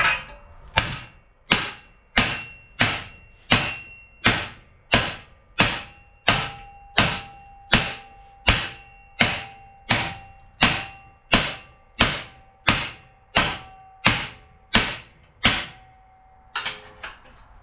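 Steady, heavy hammer blows strike a Jeep XJ frame about once a second, each hit ringing briefly, about seventeen in a row with no talking.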